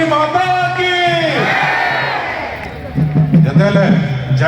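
A crowd chants praise to Maa Samaleswari, loud massed voices rising in a drawn-out shout, with further chanting after a brief lull.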